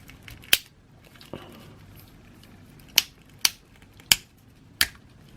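Sharp, isolated clicks from the ratcheting joints of a Play Arts Kai Arkham Knight action figure, about six snaps spaced irregularly over a quiet background, close and crisp.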